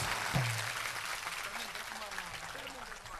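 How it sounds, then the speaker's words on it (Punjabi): Audience applause at a singer's live event, a dense, steady wash of clapping throughout with crowd noise and a voice briefly heard over it. "ਜ਼ੋਰਦਾਰ ਤਾਲੀਆਂ ਹੋ ਜਾਣ ਉਹਨਾਂ ਵਾਸਤੇ"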